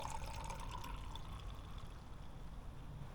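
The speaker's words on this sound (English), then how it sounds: "I haven't even poured in my Canada Dry yet, so let's go ahead and do that real quick." Canada Dry ginger ale poured from a can into a drink outdoors in a public park, a steady fizzy trickle running continuously and fairly faint under low ambient noise.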